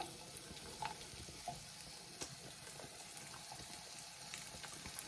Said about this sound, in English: So I'm going to put the onions in here and slowly cook them.